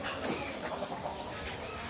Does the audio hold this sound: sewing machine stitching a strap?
no